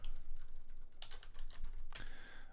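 Rapid typing on a computer keyboard while entering a Linux shell command, a steady run of close, crisp key clicks with a brief pause and a couple of heavier keystrokes near the end.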